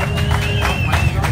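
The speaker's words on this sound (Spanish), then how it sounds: "El aplauso para mi Alex." Brief burst of audience clapping at a motorcycle-week press conference, close and steady, with a voice audible underneath.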